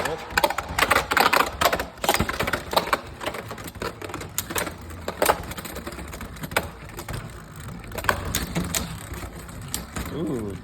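Beyblade Burst Hypersphere tops Monster Ogre and Engaard clattering against each other in a plastic stadium, a dense stream of rapid ticking hits and scrapes with a whirring spin, people talking over it.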